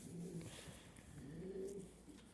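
A young pigeon coos in low, soft, rolling phrases close by, with a steady background hiss throughout.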